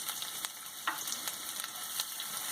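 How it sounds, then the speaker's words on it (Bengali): Chopped onion frying with lightly browned coconut in a pan, a soft continuous sizzle close by with scattered scrapes and clicks from stirring. "নারকেল হালকা ব্রাউন করে ভাজা হয়ে গেলে কুচনো পেঁয়াজ দিয়ে দিতে হবে"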